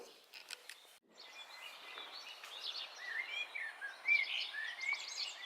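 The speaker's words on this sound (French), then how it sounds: "Il y a le petit chant des oiseaux là." Small birds chirp and twitter around a breakfast terrace in the Vosges in the morning, scattered bright calls rising in the distance over quiet background, growing busier toward the end.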